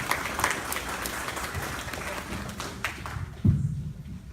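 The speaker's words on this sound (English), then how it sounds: "Applause, please." A forum audience on storm surge flooding claps to welcome two presenters, moderate steady applause that thins and fades near the end, followed by a single sharp thump.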